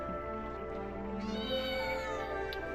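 A cat meows in the video game Genshin Impact, a single drawn-out, wavering call heard close and clear over a steady, soft musical backdrop with no talking.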